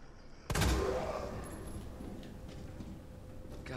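A single sharp burst of gunfire in the video game Resident Evil 2, then a decaying echoing tail and faint background noise.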